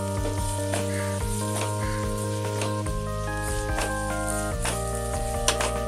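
Carrot halwa sizzles softly in a pan on a medium flame after half a spoon of ghee goes in, with a steady frying crackle beneath a sustained tonal hum and faint stirring clicks.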